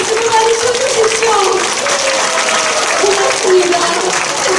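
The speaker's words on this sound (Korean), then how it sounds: "여러분들 박수를 많이 쳐주십시오" Steady applause fills a district community hall during a Pyongyang art troupe performance, dense and close, with a sustained tone and faint voices threaded through the clapping.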